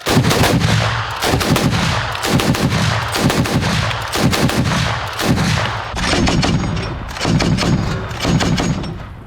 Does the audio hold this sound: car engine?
no